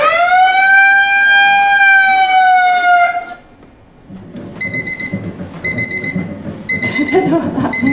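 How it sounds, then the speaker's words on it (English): A loud electronic alarm clock blares a steady, piercing tone for about three seconds before stopping abruptly, followed by softer beeping chimes and household rustling in the background. "the alarm wakes Julie early to follow Anita's exercise routine."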